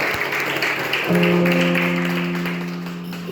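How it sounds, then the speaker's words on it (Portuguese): Church congregation applauding in a continuous wash of clapping that gradually fades, with a sustained organ-like musical tone entering partway through. "Aplaude a Jesus bem forte"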